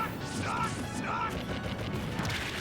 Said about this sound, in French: il a détruit le sol, il explose le sol